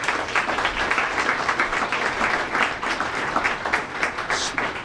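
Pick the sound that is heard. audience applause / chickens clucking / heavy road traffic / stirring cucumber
audience applause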